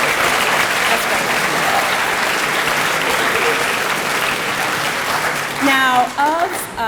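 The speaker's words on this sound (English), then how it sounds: "give your classmates a round of applause" Students clap together for their classmates in a school setting, a dense, loud round of applause that fills the whole clip, with a few voices and whoops rising near the end.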